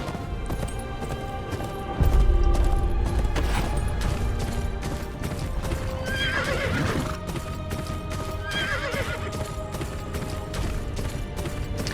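Rhythmic clip-clopping hooves continue throughout while a horse in the video game GoT Kingsroad whinnies loudly twice in the middle, close by and unaccompanied by speech.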